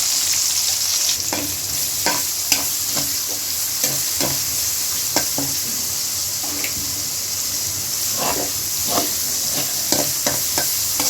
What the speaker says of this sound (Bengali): ওই মাংস ভাজার তেলেই এখন পেঁয়াজ বেরেস্তা ভেজে নিব,